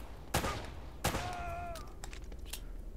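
Uncharted: Drake's Fortune gameplay with two sharp gunshots ringing out about a second apart, followed by fainter scattered shots and clatter at low overall volume.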